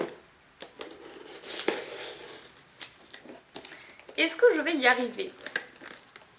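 Crinkling and tearing of lots of tape on a cardboard shoebox, scratchy rips and rustles close by, with someone talking in French over part of it.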